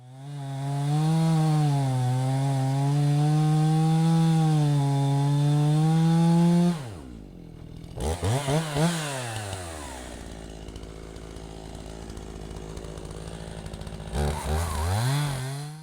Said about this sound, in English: I'm gonna slice them in half with the chainsaw.